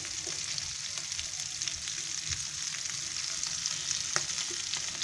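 Whole mackerel (bangda) coated in semolina fries steadily in a pan over low gas, giving a continuous close, even sizzle with a few brief crackles and pops.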